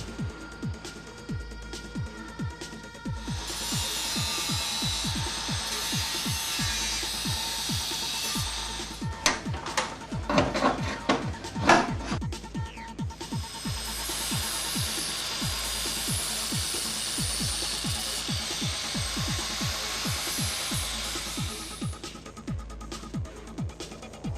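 Metal is trimmed with a power tool so a condenser fits during a K20 engine swap, giving two long rasping stretches of cutting with a short burst of scraping between them over a steady rhythmic background tick.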